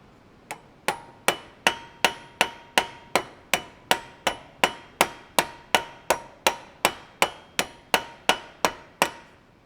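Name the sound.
hammering a rivet on a candle holder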